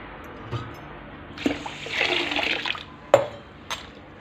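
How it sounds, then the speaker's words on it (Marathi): Water poured over ration rice left soaking in a container, a close pouring and splashing rush lasting about two seconds, framed by a few sharp knocks and clinks of the vessel. "आपण दुसरं पाणी ओतूया तर तांदूळ आपण हे भिजत ठेवायचे"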